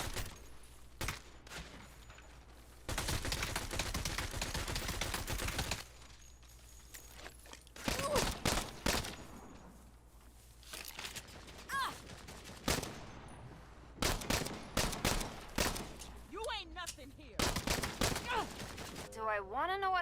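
Bursts of rapid gunfire in the video game Saints Row crackle in several loud volleys, with pauses between, some single shots and faint voices in the gaps.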